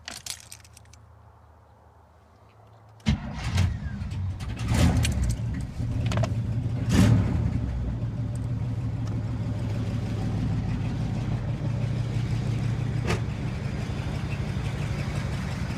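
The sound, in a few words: truck engine starting and running after battery charge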